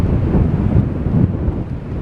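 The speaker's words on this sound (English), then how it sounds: "Hopefully you'll be able to hear me despite the wind." Strong wind buffets the microphone on the seaside promenade at Blackpool, a loud continuous low roar with gusty surges throughout and no voices.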